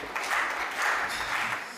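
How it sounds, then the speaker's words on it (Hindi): Steady applause from an audience at a Hindi comedy poetry show, a dense wash of clapping in a couple of swelling waves, with no talk over it. "ताली बजानी पड़ेगी"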